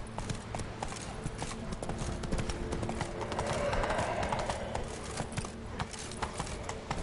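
Roach the horse gallops in The Witcher 3: Wild Hunt, with steady hoofbeats drumming close throughout and a brief whinny partway through.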